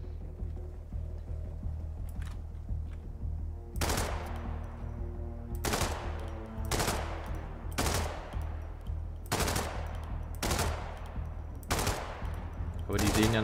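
In Hitman 2, on a beach, gunfire is aimed at people: sharp, loud automatic bursts crack out roughly every second or two over a low rumbling game background.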